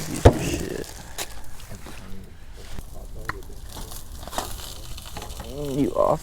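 Hot dogs frying over a campfire at a private pond campsite, soft sizzling and crackling with occasional clinks and scrapes, while people talk nearby.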